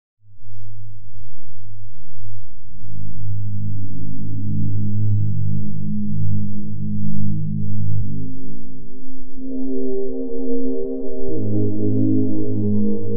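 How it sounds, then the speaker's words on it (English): Warm synth pad soloed in Mainstage 3 with the mod wheel rolled down, soft sustained chords swelling in and shifting between voicings, steady and alone. "if I just solo the pad and start with a really warm sound by rolling the mod wheel down"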